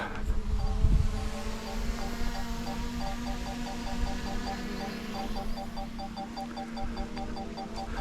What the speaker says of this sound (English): that buzzing you hear, that's my drone